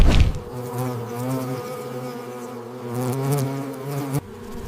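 A dense swarm of honeybees defending their hive against a giant hornet buzzes in a loud, steady drone with wavering pitch, close and continuous throughout, with no voices over it.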